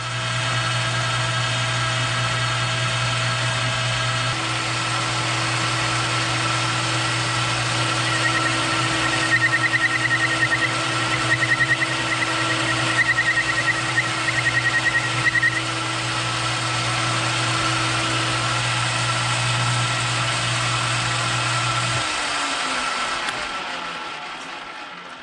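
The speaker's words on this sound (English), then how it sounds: "to face off your work first, so I'll do that first before turning down the diameter of the end of this" A metal lathe faces off the end of a metal workpiece with a steady, loud motor hum and a thin tonal whine, holding for about twenty seconds before the machine winds down and fades out.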